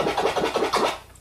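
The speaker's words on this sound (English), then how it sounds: "But if you chirp in the middle of the scratch," A turntable chirp scratch begun partway through a sample makes a quick run of about five rhythmic, slurred bursts, close and moderately loud, fading at the end, with no voices.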